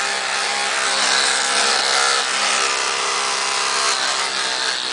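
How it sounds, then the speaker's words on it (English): Trimming long hair on an animal's face at a veterinary clinic, heard as a close, steady mechanical buzz of clippers running continuously at even loudness, with no voices. "Dr. Lin is trimming Myer's face with some long hair."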